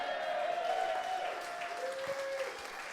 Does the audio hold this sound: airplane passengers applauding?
yes